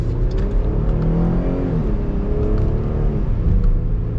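A 2022 Dodge Durango GT Blacktop, a heavy three-row SUV, accelerates hard with a steady droning engine note that climbs and drops through quick gear shifts, heard from inside the cabin without talk.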